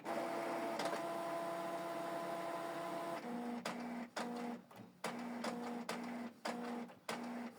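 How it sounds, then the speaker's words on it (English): A Canon Pixma TS6550i printer powers up, starting with a steady mechanical whir and then moving into a run of rhythmic stop-start motor pulses and clicks, close and moderately loud, with no one talking. "Switch the printer on and off from this button."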